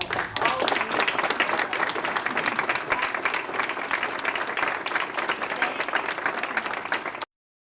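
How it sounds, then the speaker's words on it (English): Audience applauding a panel at a supply chain forum, dense steady clapping from many hands that runs continuously for about seven seconds before cutting off abruptly. "I would just like to have a round of applause for our panel and all of you."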